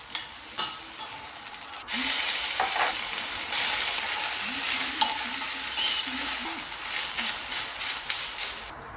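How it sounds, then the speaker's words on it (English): Lengthwise-sliced onion sautés in a tablespoon of oil with cumin seeds in a pan, a loud, dense sizzle that swells after a couple of seconds and continues with spatula stirring and scraping close by. "A tablespoon of oil in a pan, a teaspoon of jeera, 1 onion cut lengthwise that I saute until they become translucent"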